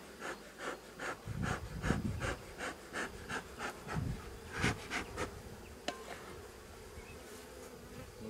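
Honey bees buzz around an opened, smoked beehive in rhythmic pulsing waves, close and steady, with a brief sharp knock near the end and no talk.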